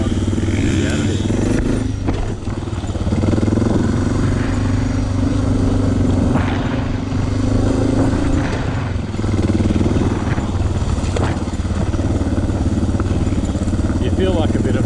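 A Suzuki DR650 dual-sport motorcycle cruising along a road, its engine a steady low drone with wind rush and slight rises and falls in pace, close-miked throughout.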